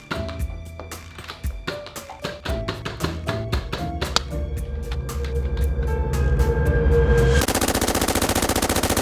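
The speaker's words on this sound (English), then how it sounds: "When did Nerf guns get awesome?" Rapid bursts of a Nerf blaster firing, loud sharp clicks and thumps in a quick rhythm that speeds into a dense continuous rattle near the end, close up with no talk.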